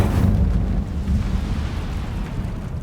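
Incendio fire spell cast in Hogwarts Legacy, a loud low roaring whoosh of flame that bursts at once and keeps rumbling steadily for about three seconds with no talk over it.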